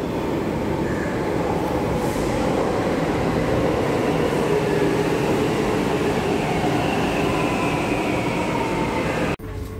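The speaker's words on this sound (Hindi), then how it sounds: "ट्रेन आने वाली है।" A Delhi metro train rumbles into the station with a steady, loud roar and faint squeals from the wheels, running continuously for the whole stretch before a sudden clunk near the end.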